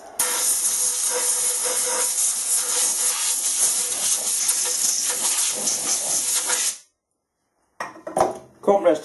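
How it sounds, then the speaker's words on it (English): Compressed air blasting loudly and steadily to clean out lathe chuck screws, a broad hiss lasting several seconds before cutting off, followed by a few short clattering sounds. "Compressed air is a handy tool for cleaning out chuck screws and whatnot"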